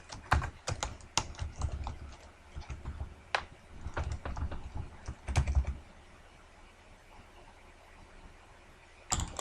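Keys clatter in quick bursts on an Amstrad computer keyboard during game play, with clustered taps and pauses between flurries, fairly close and alone, then a long quiet stretch before a final burst.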